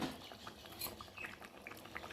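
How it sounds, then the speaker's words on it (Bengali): A spoon stirs rohu fish curry with potatoes in a pot, giving soft, quiet scraping clinks and light liquid sloshing in short irregular strokes. "এখন একটু আমি নাড়া দিয়ে দেবো, মানে ঘেঁটে দেবো"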